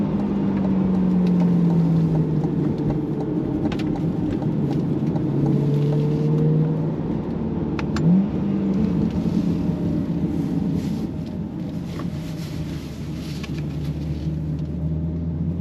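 A 2026 Chevrolet Corvette C8 Z51 creeps into a parking spot, its engine giving a steady low rumble at close range that eases off toward the end, with no one talking.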